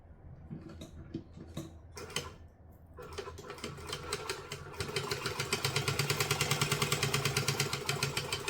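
A sewing machine stitches gusset pieces of a fabric troll together, starting with a few hesitant clicks and short bursts before settling into a steady, rapid rhythmic hum that grows slightly louder.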